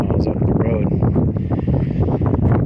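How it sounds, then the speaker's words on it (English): Wind buffets a microphone in a steady, loud low rumble with gusty fluctuations throughout, and no voice emerging clearly above it. "Well, it's a little windy. It's probably going to affect the audio quality."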